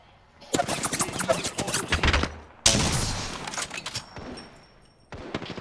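Rapid automatic gunfire from an Apex Legends match plays in two long, dense, loud bursts separated by a brief gap, then a shorter burst begins right at the end, with no talking over it.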